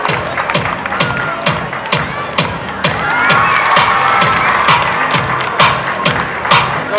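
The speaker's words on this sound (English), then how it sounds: "please cheer them up with your applause" At a school event, an audience claps and cheers loudly for students, with sharp rhythmic claps near the front and a swelling crowd roar and children's shouts rising in the middle.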